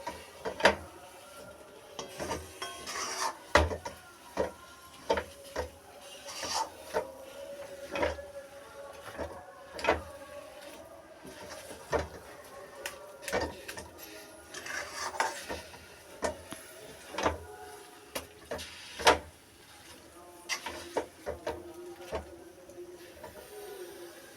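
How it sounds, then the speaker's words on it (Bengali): A thickening laddu mixture is stirred in a kadai over a low gas flame, giving repeated scraping and clinking strokes against the metal pan in an uneven rhythm, close and fairly faint, with no talking. "ততক্ষণ নাড়তে থাকবো যতক্ষণ কড়াই থেকে উঠে উঠে না আসে।"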